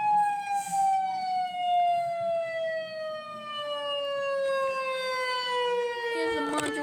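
A loud modulator siren under test sounds as a single sustained tone that slowly falls in pitch throughout, steady and fairly close.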